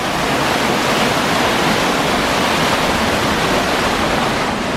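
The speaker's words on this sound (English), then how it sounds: "Got into a waterfall here." A waterfall in a desert oasis roars loud and close, a continuous broadband rush of falling water with no pauses.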